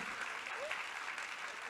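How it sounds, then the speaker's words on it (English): A round of applause at a charity transparency and governance awards ceremony, steady dense clapping held at an even level throughout, with faint voices mixed in. "A round of applause."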